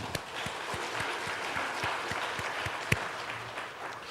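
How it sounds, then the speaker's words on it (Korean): A church congregation gives a round of applause, steady and even clapping from many hands with a few sharper claps standing out. "박수 올리겠습니다"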